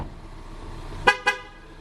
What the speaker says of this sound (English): the horn will beep twice to let you know that the key fob has left the interior of the car